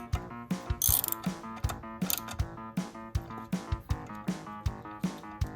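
A hand ratchet tightens a bolt on a 1968 VW Baja Bug transmission during an overhaul and main shaft bearing change, giving repeated close, crisp clicking strokes in a steady rhythm with a tonal background underneath.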